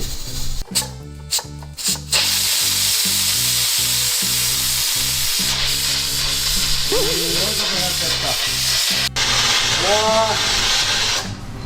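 Loud, continuous hiss of steam venting from a pressure cooker, with intermittent rattling and clicks, and a voice speaking briefly partway through.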